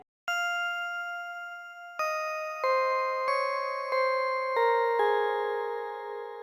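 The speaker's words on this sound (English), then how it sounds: "So next up, I have this bell organ right here." Bell organ synth preset Organ Bell 1 from Xenology plays a slow, simple melody for an ambient beat: sustained chiming tones entering one after another, each ringing on and layering over the last, clear and alone with no voices.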